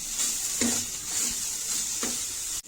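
A spice mixture with salt dry-roasts on low heat in a pan. A soft continuous hiss runs throughout, and two or three distinct scraping stir strokes stand out. There is no talk.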